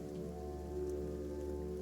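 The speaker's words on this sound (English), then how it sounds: "you feel the patter of rain tickle over your face and then your hair" Steady, soft rain patters continuously over a low, constant hum, faint and even throughout with no distinct drops standing out.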